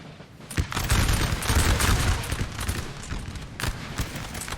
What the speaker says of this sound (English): Firing directly into the French lines.